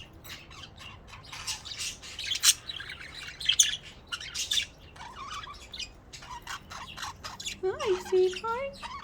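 A pet parrot sings and squawks, a run of chirps, whistles and harsh calls in uneven bursts, close and fairly loud, with sounds like a voice mixed in.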